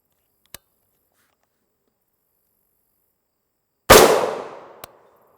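An M855 rifle round fired at a Level III+ armor plate: one sharp loud gunshot with a short decaying ring, preceded and followed by faint small clicks, no talking.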